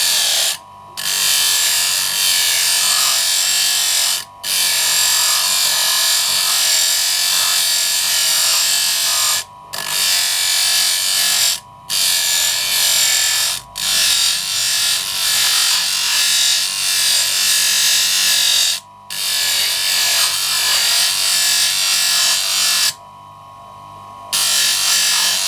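A machine sands a homemade wooden arrow point in a continuous loud grinding rasp, broken by several short pauses as the piece is lifted away, with a longer gap near the end.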